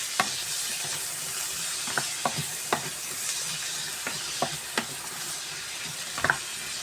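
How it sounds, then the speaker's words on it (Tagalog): Carrots and onions sauté in a pan for pancit bihon: a constant hissing sizzle with sharp, irregular utensil clicks against the pan every second or so, and no talking. "Yun na muna unahin natin igisa."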